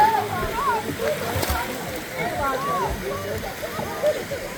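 Water splashing and sloshing in a pool, with people talking over it throughout.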